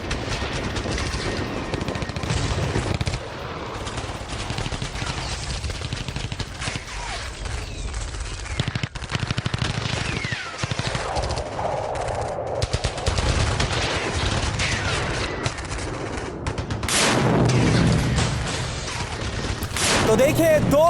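Sustained gunfire during urban combat between Hamas fighters and Israeli forces in Jabalia, with rapid automatic bursts and repeated shots crackling continuously over a dense, noisy background.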